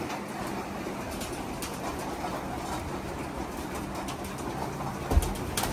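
Racing pigeons in a loft before final training for the Capistrano Classic race, giving soft steady coos amid a continuous rustling ambient murmur, with a brief sharp knock near the end.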